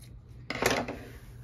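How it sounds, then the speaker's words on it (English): Scissors trim the fabric seam allowance at the corners of a sewn kids' jacket, a brief, close crisp snip-and-rub burst of about half a second. "we're also going to go down here to these corners and just trim."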